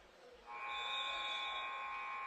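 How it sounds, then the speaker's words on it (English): A sustained electronic buzzer sounds over a quiet arena murmur to signal the start of a women's basketball game at the 2023 Bahamas Games, a steady bright tone holding for about two seconds. "And that's the buzzer to go"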